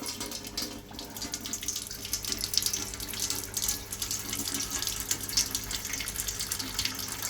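Water flows through an opened valve into an underback, letting the levels equalize. It is a steady, continuous rushing stream that stays close and even throughout, with no voices.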